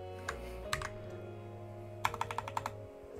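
Computer keyboard keys pressed: a few isolated clicks, then a quick run of about six taps, close and crisp over a low steady hum.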